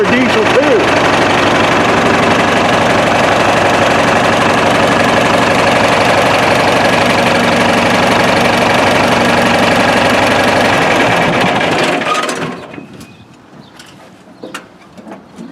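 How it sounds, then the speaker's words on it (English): A diesel tractor idles at a country tractor show, running loud, steady and smooth close by for about twelve seconds before cutting off abruptly, leaving quiet background noise. "That's surprisingly smooth for a diesel too."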